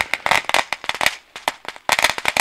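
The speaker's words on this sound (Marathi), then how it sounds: "फटाक्यांचा कडकडाट टाळ्यांचा गडगडाट होतोय" Firecrackers burst at a cricket tournament final in a rapid, loud, irregular string of sharp cracks, with a short lull before another dense volley.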